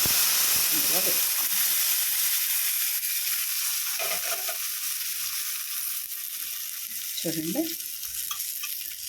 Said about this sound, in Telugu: పోపు ఇందులో వేసుకోండి.